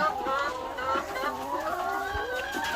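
Hens in a coop at early-morning feeding time cluck in a lively run of rising and falling calls, fairly close and continuous, with a faint voice underneath.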